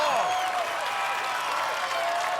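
A crowd at an American Ninja Warrior finals course in Houston cheers and claps for a 48-year-old competitor, a dense, steady roar of applause and shouts heard from within the arena.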